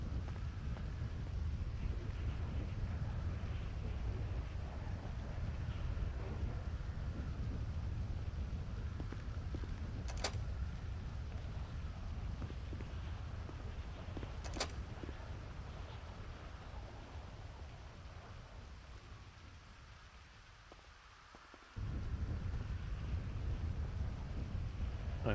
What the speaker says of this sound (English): I'll be right back after the storm.